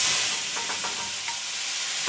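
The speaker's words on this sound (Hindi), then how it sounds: "अब मैं छौंक रही हूँ, ये चने फ्राई कर रही हूँ" Chickpeas frying in a pan, tempered with cumin alongside green chili and onion over a low gas flame: a steady, bright sizzle with a few soft stirring strokes, and no voices.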